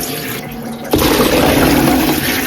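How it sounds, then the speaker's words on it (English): Soaking water from olives pours out as they are drained, a loud rushing splash that starts abruptly about a second in after a quiet moment and then runs steadily to the end. "I'm just going to drain them."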